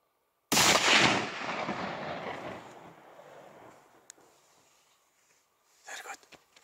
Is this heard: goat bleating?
no